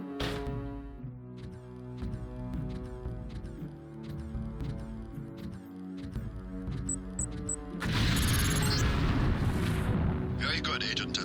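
A LAM proximity mine detonates in the game Deus Ex during demolitions training, a sudden loud blast with a broad rumbling roar that swells and lingers over steady background music.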